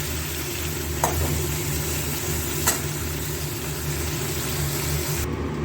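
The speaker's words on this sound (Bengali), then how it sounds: "চিংড়ি মাছগুলো উল্টে পাল্টে একটু ভেজে নিয়েছি" Prawns sizzle and fry in hot oil as they are turned over in the pan, a steady close crackle with a couple of sharp clinks from the utensil.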